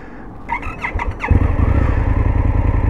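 An Indian FTR 1200 R Carbon 2021 motorcycle engine kicks in after a few clicks and idles loudly with a rough, throbbing rumble, close by.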